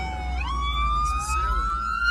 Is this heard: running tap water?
no